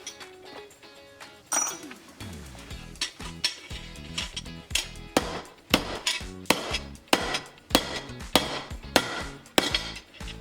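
A hammer pounds a copper bracelet flat in a steady series of bright, clinking metal strikes, close by, starting after some handling clatter and continuing rhythmically, with a voice speaking briefly.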